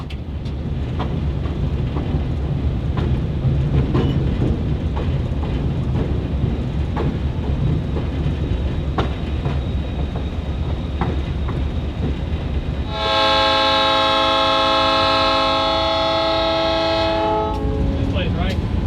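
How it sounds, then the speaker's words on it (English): A Southern Railway GP30 diesel locomotive rumbles steadily along the track on a rainy day, then its loud multi-chime horn blasts in one long sustained note near the end, with faint talk under the engine noise. "It's always a thrill to see a classic locomotive in action, rain or shine."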